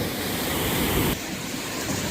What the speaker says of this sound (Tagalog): Mababasa ang camera ko sa tilamsik ng tubig.